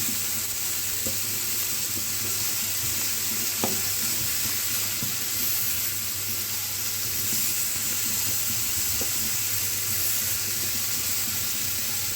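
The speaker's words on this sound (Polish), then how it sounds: "Przez ten olej, to tu skwierczy i pewnie mnie nawet nie słychać." Chicken pieces fry in hot oil in a pan for a chicken-and-rice dish, a loud steady sizzle running throughout with occasional clicks of stirring.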